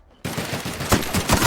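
A rapid burst of gunfire in The Outer Worlds video game starts suddenly after a brief quiet, loud and close, with repeated punchy shots in quick succession.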